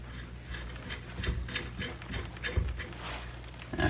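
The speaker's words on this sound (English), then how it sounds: "So we're just going to screw this first nut on." A nut being threaded by hand onto a head stud of an 80cc two-stroke motorized bike engine with a high-compression head: faint, close metallic rubbing and light ratchety clicks in a quiet, uneven rhythm, with no talking.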